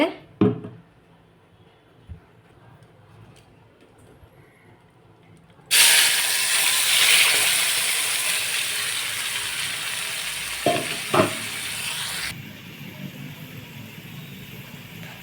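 Prawns for a prawn biryani hit a hot pan and burst into a loud, close, steady sizzle that holds for several seconds before easing to a quieter hiss, preceded by a few sharp clicks and clanks of cookware, with no talking.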